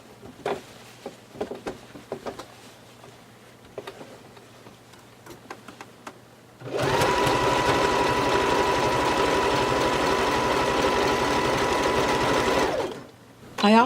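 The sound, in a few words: sewing machine sewing a stretch stitch on a pant waist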